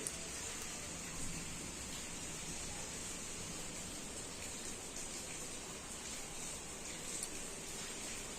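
Light rain falling steadily outside a storm-damaged home during a storm, a soft continuous hiss with gentle wind, even in level throughout and with no voices.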